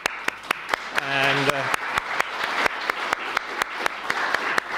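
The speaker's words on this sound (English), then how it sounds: "Why don't we give them a round of applause?" A crowd applauds with sharp, regular claps standing out, while a voice speaks briefly over the clapping.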